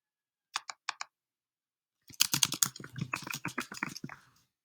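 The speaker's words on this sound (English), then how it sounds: "So I'm going to type my name." A name is typed on a computer keyboard: three isolated key clicks come first, then after a pause a quick, dense burst of close keystrokes that lasts about two seconds.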